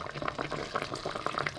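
Water poured into a pot of lamb neck, taro leaf and coconut stew simmering on the stove, a close, steady bubbling and splashing liquid sound with no talk.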